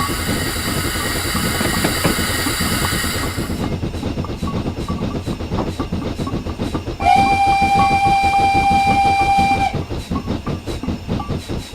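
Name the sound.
steam locomotive whistle in video game Train Simulator 2016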